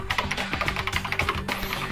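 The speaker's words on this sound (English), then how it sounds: "and she started typing again." Rapid keyboard typing on a laptop in the game Danganronpa: Trigger Happy Havoc, a steady flurry of close, crisp key taps with no talking.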